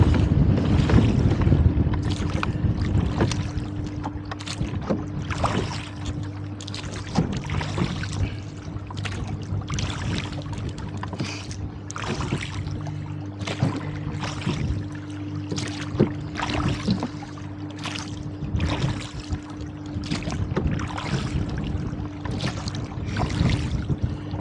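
Wind gusting across Jenkinson Lake on a windy day while rowing: a steady broadband rush of wind with a faint low hum, and regular creaks and knocks of the oars recurring every second or so, with no voices.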